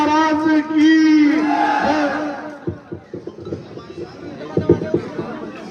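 A crowd at a political gathering cheers with loud shouted chants and voices, then breaks into scattered uneven clapping while people chatter.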